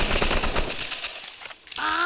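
Rapid automatic gunfire rattles loudly in a shooting video game, a dense burst that thins out, followed by a brief tonal game sound.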